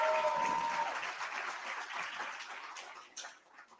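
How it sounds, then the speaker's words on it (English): Audience applause at a fifth grade promotion ceremony as students are promoted to sixth grade, a dense burst of clapping that thins and fades toward the end. "Let's give them a big round of applause."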